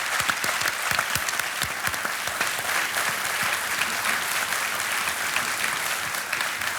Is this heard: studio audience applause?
yes